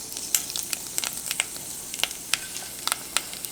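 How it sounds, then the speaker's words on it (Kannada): Dried red chillies sizzle in a pan of hot oil for puliyogare tempering, a soft, even frying hiss dotted with sharp crackles and pops throughout. "ಈಗ ಇದಕ್ಕೆ ಒಣಮೆಣಸಿನ್ಕಾಯಿನ ಹಾಕ್ತಾಯಿದ್ದೀನಿ."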